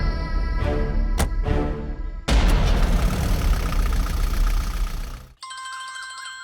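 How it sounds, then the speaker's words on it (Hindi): Amid film soundtrack music and a booming impact, a phone starts ringing near the end with a bright repeating electronic ringtone that stands out against the quieter background. "अरे फोन है।"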